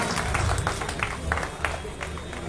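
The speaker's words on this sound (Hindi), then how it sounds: "जोरदार तालियां भी साथ में बजाते रहे" A crowd at a welcome rally in Gothara claps steadily in a dense, noisy wash of applause, with irregular louder claps standing out and a speaking voice faintly mixed in.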